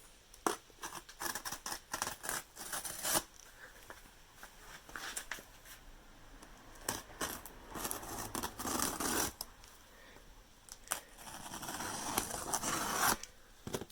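Cardboard boxes holding heavy UB12500 SLA batteries are opened, with close, intermittent scraping, tearing and rubbing of cardboard and tape in irregular bursts, quiet overall and with no talking.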